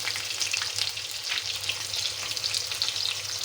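Bay leaf and onion frying in oil in a pan, producing a dense, even crackling sizzle throughout, close and steady, with a low hum underneath and no voices.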